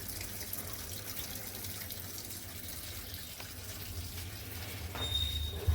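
A washing machine fills with water in a constant gushing, running-water hiss that holds steady and swells slightly louder toward the end, with a few clunks. Nobody speaks.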